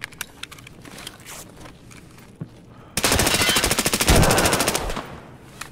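Gunfire in Valorant: a few scattered single shots and footsteps, then a loud sustained burst of rapid automatic fire for about three seconds, up close.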